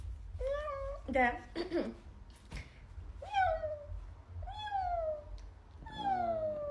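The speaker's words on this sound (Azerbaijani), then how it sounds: "Bu küçələrdə gözü zırlı pişiklər olur, evsiz qalan." A street cat meows repeatedly, several drawn-out rising and falling cries spaced across the stretch, fairly close, with a person speaking briefly in between and low background rumble.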